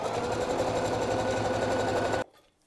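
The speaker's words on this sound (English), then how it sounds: "sewing all the way along 1 centimeter from the edge, all the way along to here, and back stitch there" A sewing machine runs a continuous straight seam along a drawstring camisole, a steady loud mechanical whir for about two seconds before stopping abruptly into near silence.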